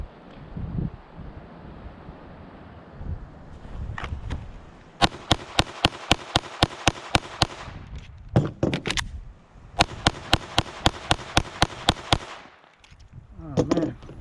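Handgun shots fired at a small target five yards away on an outdoor shooting range, two quick strings of about ten sharp, loud cracks each, separated by a pause, with wind noise and brief talk around them.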